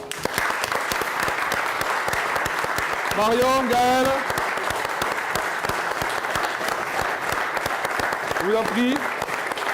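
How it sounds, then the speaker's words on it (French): Steady applause from an audience at a political rally in Alès fills the whole clip, with someone speaking briefly over it in the middle and again near the end. "Je vais vous demander un maximum d'applaudissements pour pouvoir les accueillir"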